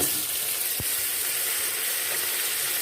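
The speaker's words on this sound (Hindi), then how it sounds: "अब इसमें हम टमाटर डालेंगे" Tomatoes frying with ginger-garlic paste for a bitter gourd chicken masala, a steady loud hiss with a single dull knock near the start, with no talking.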